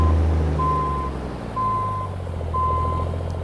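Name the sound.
truck reversing beeps while backing up, video game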